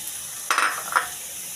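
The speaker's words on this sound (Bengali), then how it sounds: "মশলাটা ভাজা ভাজা হয়ে গেছে, এবারে আমি কুমড়োটা দেব।" Spice paste for a pumpkin and poppy-seed dish fries in a pan with a steady, close sizzle. Two short bursts of stirring clatter come as pumpkin is added.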